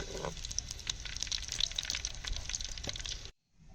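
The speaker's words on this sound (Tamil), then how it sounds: "எண்ணெய் காஞ்சிச்சு, சோம்பு போட்டுக்கலாம்." Fennel seeds dropped into hot oil give a steady, dense crackling sizzle with scattered sharp pops, close and fairly loud, running alone for about three seconds before cutting off abruptly.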